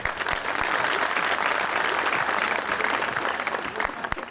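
A television studio audience breaks into loud, steady applause, dense clapping filling the room for the full stretch with a few sharper individual claps standing out.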